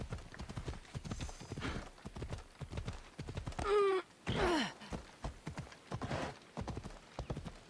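A horse gallops in the video game Assassin's Creed Odyssey with steady, close clip-clopping hooves throughout. Near the middle the horse gives a loud whinny and a snort, and no one speaks.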